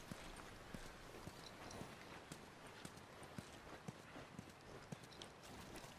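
Horse hooves clip-clop at a steady walking pace in The Last of Us game, a faint, even patter of hoof strikes over soft background ambience.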